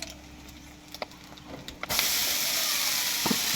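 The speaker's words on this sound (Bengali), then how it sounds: "এবার ডিম ঝুরুলিটা দিয়ে দিচ্ছি, এবার নেড়ে নিই।" Maggi noodles with scrambled egg being stirred in a pan: a few light scrapes and clicks at first, then a loud, steady sizzling hiss that carries on to the end, with no talking.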